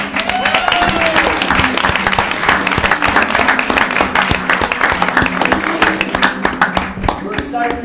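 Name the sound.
audience applause for high school performers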